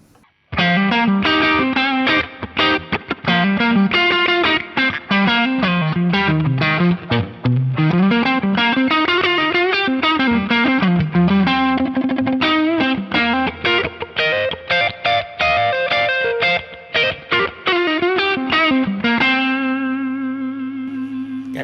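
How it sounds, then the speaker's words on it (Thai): A distorted electric guitar, a Saito S622, plays a continuous, loud riff of driving chords and bending lead notes, ending on a sustained ringing chord. "มาลองฟังเสียงแตกกันดูครับ"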